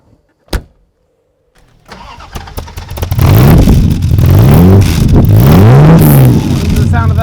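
A 1963 Aston Martin DB4 engine cranks and fires after a sharp click, then settles into a loud idle with three rising revs blipped close by, alone without talk.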